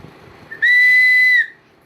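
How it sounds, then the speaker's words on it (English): A single shrill blast from a handmade toy whistle, steady and loud, held for under a second, then silence. "These are whistles."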